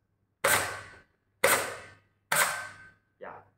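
Three sharp shots from a Nerf QWK Edge blaster firing foam darts from a magazine, each a crisp snap with a short decaying tail, evenly spaced about a second apart, then a softer fourth sound at the end.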